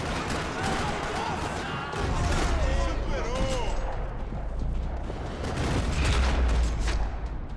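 Gunfire rattling across a parking lot in Max Payne 3, bursts of shots and booms rising and falling under a voice, with a louder stretch in the middle and near the end.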